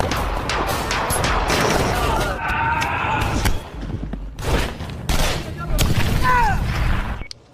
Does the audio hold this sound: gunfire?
yes